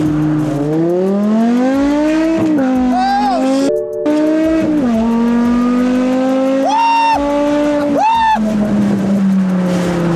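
A BMW E60 M5 accelerating hard, its engine note climbing loudly and steadily, broken by quick gear shifts that drop the pitch before it rises again, close and dominant throughout.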